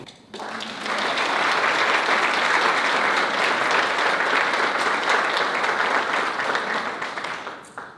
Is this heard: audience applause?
yes